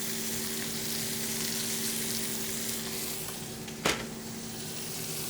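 Steak sizzles loudly in a pan with garlic and compound butter, a dense, continuous crackling hiss close up, broken by a single brief clink partway through.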